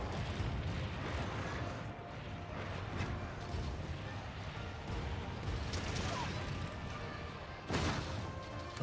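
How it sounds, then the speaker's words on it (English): Cannon fire in the video game Monster Hunter Rise, heard as loud booming blasts inside a dense, continuous wash of battle noise, with a sharper hit near the end. "I just got on the cannon."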